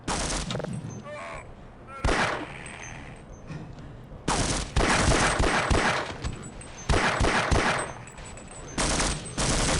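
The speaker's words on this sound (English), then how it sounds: "I do see the soldier shooting on the head crabs" In Half-Life, soldiers fire on headcrabs with several loud bursts of automatic gunfire separated by short pauses, close and harsh. Quieter creature noises and background game sounds fill the gaps.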